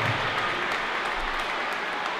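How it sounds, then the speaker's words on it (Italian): Applause at a youth swimming meet, a dense, even wash of clapping from a sizable crowd, steady and fairly loud throughout. "Io farei innanzitutto un applauso ai ragazzi che oggi saranno i veri protagonisti della"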